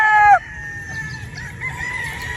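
A gamefowl rooster crows loudly and close by for a brief moment, then the crow cuts off into a softer bed of low clucking and farmyard murmur.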